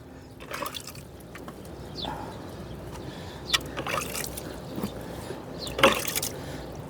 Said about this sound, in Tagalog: Basain ko lang si Tagpi mga kajuit